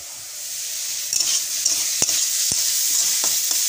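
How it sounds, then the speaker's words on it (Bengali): Water boiling in a pot on a home kitchen stove ahead of cooking chowmein, a steady bubbling hiss with a few sharp clinks of a spoon or lid, close and continuous, with no talking. "হ্যাঁ জল ফুটছে"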